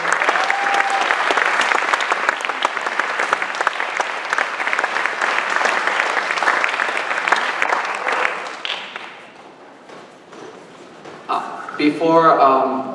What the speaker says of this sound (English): yes, a warm round of applause for Dr. Hina, Phil Wilson.